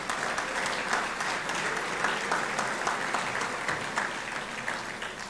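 An audience at an athletic hall of fame ceremony gives the dining staff a warm round of applause, steady dense clapping that fills the room and tapers slightly at the end.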